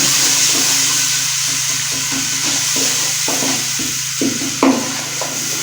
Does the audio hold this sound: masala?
yes